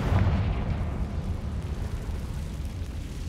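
Confringo blasting spell detonating in the video game Hogwarts Legacy, a loud low rumbling burst that starts strong and rolls on as a sustained roar through the whole stretch, with no voices.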